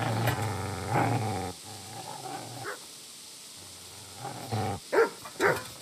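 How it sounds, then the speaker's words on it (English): Dog growling and barking in the medieval video game Kingdom Come: Deliverance, a sustained low snarl followed by a few sharp, loud barks near the end, close and with no talk. "Get away, you mutt!"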